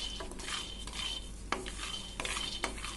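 Peanuts being dry-roasted in a heated pan for peanut chikki, with a spoon scraping and clinking against the metal in repeated strokes and a faint dry rattle underneath; no voices.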